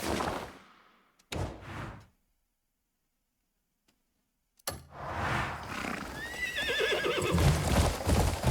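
A horse in the video game Crimson Desert rears and neighs loudly, with a hoof thud, a pause of silence, then a long shrill whinny amid rustling game sounds.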